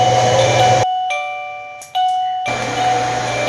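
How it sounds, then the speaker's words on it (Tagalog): A doorbell rings in a quiet house, a clear sustained electronic chime with two bright tones and a brief pause between them; no talking. "habang tulog naman ako, ay mayroong biglang nag-doorbell"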